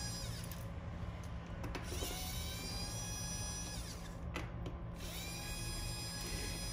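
A small electric screwdriver whirs steadily while removing the charging dock from a Xiaomi Mi 9C phone, a continuous thin motor whine with brief scraping clicks and pitch shifts, close by with no talking.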